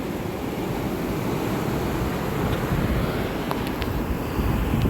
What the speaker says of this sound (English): I want to record some of that sound. Ocean. Motion of the ocean.